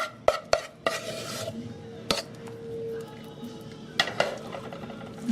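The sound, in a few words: spoon spreading vegan fudge in a pan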